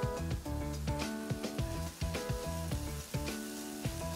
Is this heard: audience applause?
no